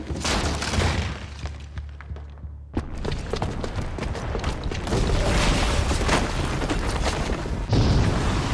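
Booby-trapped bomb going off in Horizon Zero Dawn, a heavy boom followed by shattering debris and a sustained roaring rumble that swells again toward the end, loud and close.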